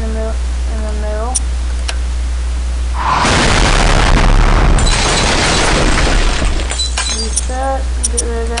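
An airstrike in a video game sets off a loud crashing explosion with a shattering, rumbling burst lasting several seconds, while a voice talks before and after it.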